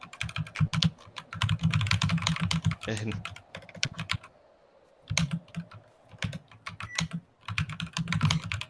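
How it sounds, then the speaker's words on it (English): Loud computer keyboard typing in rapid bursts of clacking keystrokes, pausing briefly and resuming, close and prominent, with a brief spoken word. "keyboard is going"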